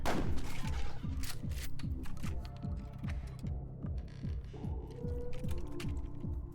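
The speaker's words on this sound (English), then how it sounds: "I'm just gonna aim and fire" In Buckshot Roulette, a series of rapid, punchy shotgun blasts with mechanical clacks rings out in a steady, repeating rhythm, loud and close, with no voices.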